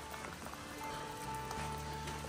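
Rain falls steadily on a slippery, rocky forest trail along the Appalachian Trail near Kent, Connecticut. It makes a soft, continuous hiss at low volume, with a faint tonal hum underneath.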